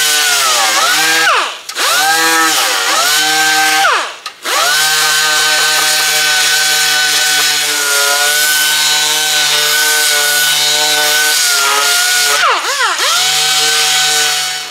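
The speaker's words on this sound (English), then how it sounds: "I'm going to take my DA sander." A dual-action sander strips paint from a solid-body electric guitar body clamped in a vise, its loud, steady whine running almost continuously with a few brief dips and pitch swoops where the tool slows or lifts off.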